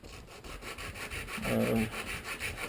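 Fine emery cloth rubbed by hand across a disc brake pad to deglaze it, a close, steady scratchy rasp in short repeated strokes, briefly louder near the middle.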